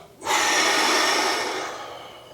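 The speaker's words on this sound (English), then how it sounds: "Out through the mouth." A single strong, breathy exhale starts suddenly and slowly tapers off over two seconds. It is close and loud, with no speech.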